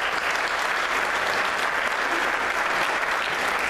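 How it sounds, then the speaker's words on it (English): A crowd at a high school football banquet applauds steadily and loudly, a dense wash of clapping that holds at the same level throughout. "If we could give him a round of applause."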